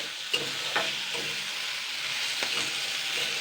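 Potatoes frying in a pan sizzle steadily while a utensil stirs them, with a few soft scraping knocks against the pan over the continuous hiss.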